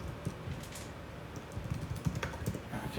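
Fingers tapping out a password on a computer keyboard, a close, quick, uneven run of light key clicks with small pauses between bursts and no one speaking.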